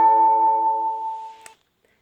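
A phone gives a low battery alert: one sustained electronic tone lasting about a second and a half, ending with a small click, then silence.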